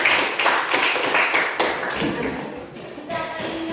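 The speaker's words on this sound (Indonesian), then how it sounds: "Ya, tepuk tangan untuk semuanya." A classroom group applauds everyone as a short burst of clapping, a string of close, uneven claps that thins out after about three seconds.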